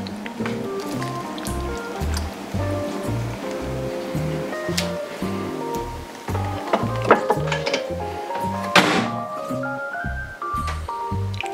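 Water is poured into an instant black garlic oil ramen cup up to the fill line, a continuous splashing stream heard over a background beat, loud and close.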